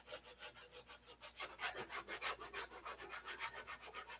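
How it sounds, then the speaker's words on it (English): Fast, steady back-and-forth rasping of hand color sanding on paint, a soft scratchy rhythm, close and fairly quiet, with no voices. "new trick, color sanding"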